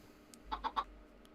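Three quick, soft clucks from chickens in a video game sky-island world, closely spaced and fairly faint against a quiet background.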